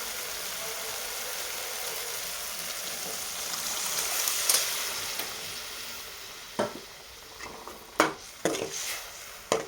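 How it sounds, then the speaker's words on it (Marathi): Cooked dal poured into a pan of spiced tempering with tomato, hissing and sizzling at first, then a few sharp clinks of a spoon scraping the pan as it is stirred nearby. "आत्ता आपण ह्याच्यामध्ये घालू शिजलेलं वरण"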